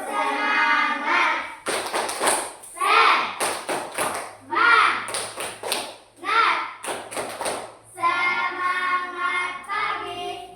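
Children in a class chant and clap out a rhythmic spirit clap in bursts of sharp hand claps, loud and close, with their voices calling along throughout.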